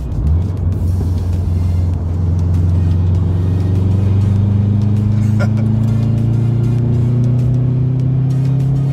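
A Subaru WRX hatchback's engine drones loudly and steadily, its pitch climbing gradually as it accelerates, heard close and alone for several seconds.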